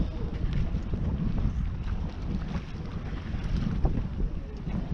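A sailboat moving on a calm sea, steady low rush of water along the hull mixed with wind buffeting the microphone, continuous and fairly loud with no talk.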